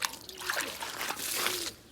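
Water trickling and splashing as it is poured into a container for pigeons, a continuous liquid stream lasting about two seconds, fairly close and moderately quiet.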